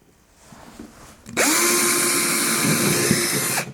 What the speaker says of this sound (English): I'm going to have to drill a pilot hole